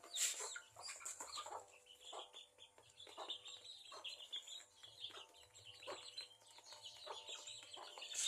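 Backyard hens feeding on the ground cluck and chirp in short, scattered bursts, fairly close but quiet, with no one talking.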